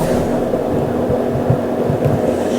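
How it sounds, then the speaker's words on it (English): A white noise machine runs steadily in a room, a constant low hum and soft throbbing wash that fills the background without breaks, fairly loud and close, with no talking. "There's a white noise machine in the background, so I guess it's maybe the microphone is picking up on that."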